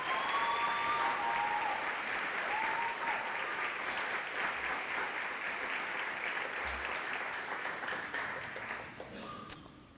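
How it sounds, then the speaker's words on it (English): Sustained applause from a large audience at a nursing white coat ceremony, dense clapping that holds steady and then tapers off toward the end. "So give them one more round of applause as they turn"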